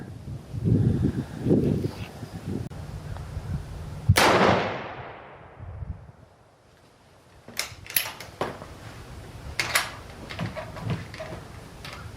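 A Bergara B-14 rifle in 6.5 Creedmoor fires one sharp, loud outdoor shot whose report decays over about two seconds, with fainter rustling and brief thumps before and after.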